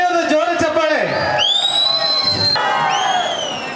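A large crowd cheers, whoops and whistles at an Ambedkar Jayanti celebration in Bangalore. Shrill rising whistles cut through the dense, loud roar of voices, which continues steadily throughout.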